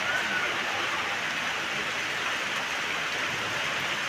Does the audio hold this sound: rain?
yes